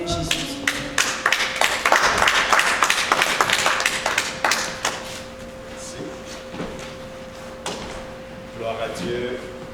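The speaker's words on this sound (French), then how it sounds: "Bien-aimé, est-ce que tu peux acclamer pour le Seigneur Jésus?" A church congregation claps and cheers in acclaim of the Lord Jesus: a burst of many hands applauding, loud and dense at first, then thinning out, with a voice speaking over the later part.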